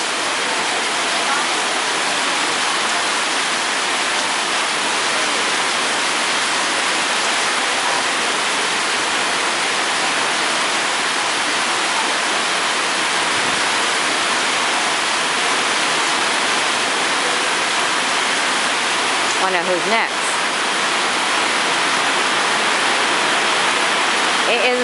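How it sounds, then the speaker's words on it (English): Heavy rain pours steadily at an outdoor Appaloosa horse show event, making a dense, loud, unbroken hiss that runs throughout, with a brief voice heard near the end. "You can hear the rain. It is raining today terribly."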